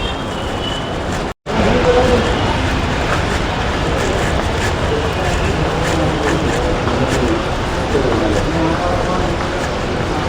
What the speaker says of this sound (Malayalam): ഇതാണ് പാലക്കാട്ടേക്കുള്ള ട്രെയിന്